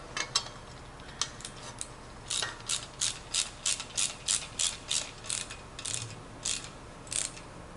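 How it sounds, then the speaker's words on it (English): A bolt is snugged down with a 3/8 wrench and Phillips screwdriver while installing a safety switch shield: a rapid series of close, crisp ratcheting clicks, a scattered few at first, then a regular run of about a dozen clicks. "snug this down with our 3/8 wrench and our Phillips screwdriver"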